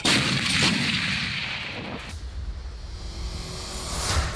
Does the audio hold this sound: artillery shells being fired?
yes